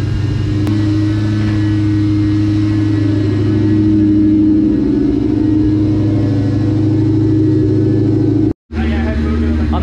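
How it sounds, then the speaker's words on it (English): A cammed Whipple-supercharged Cobra engine idles with a lumpy, uneven rumble, loud and close, with a suspected vacuum leak, holding steady for several seconds before a brief cutout near the end. "We got the car to idle. Sounds like it's cammed."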